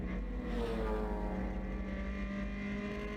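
Race cars on a circuit during a GRIDLIFE GLTC race at NOLA scream past at a distance, engines rising and falling in overlapping whines as the pack streaks through.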